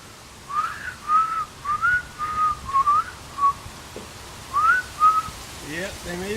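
A person with missing front teeth whistles a loose tune of short rising and gliding notes in bursts, fairly close and alone, with a short pause before a final pair of upward glides.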